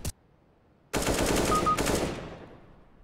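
Close automatic gunfire from a CS:GO match, a sustained spray of rapid shots through smoke after a brief sharp click, lasting about a second and a half before the echo trails away; no talk.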